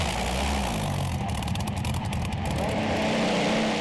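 A pulling tractor powered by a Rolls-Royce Griffin engine roars at high RPM off the line at a tractor pulling contest, a loud, continuous and steady engine drone that fills the whole stretch.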